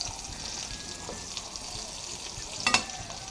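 Hotdogs turn golden brown as they fry in a pan, giving a steady close sizzle with a short louder burst of crackling near the end and no voices.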